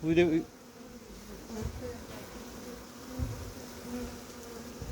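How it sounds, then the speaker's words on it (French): Honeybees buzzing around an open hive as a swarm is poured in during hiving, a steady low hum of many insects throughout, louder for a moment at the start, with faint rustling and no talk. "On transvase les abeilles dans la ruche."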